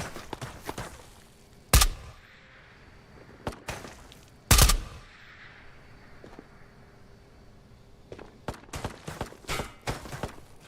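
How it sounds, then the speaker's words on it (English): Gunfire rings out in the video game Ghosts of Tabor, with two loud sharp shots standing out amid scattered quieter bursts and shuffling footsteps, separated by stretches of near quiet. "Where is this guy even shooting me from?"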